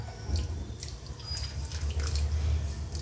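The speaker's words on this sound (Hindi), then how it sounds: "अब मैं इसमें थोड़ा सा ज़ाफ़रान का पानी डाल दूंगी।" Saffron water poured from a small vessel into layered chicken dum biryani in a home kitchen, a soft continuous trickle and splash lasting a few seconds with no talking.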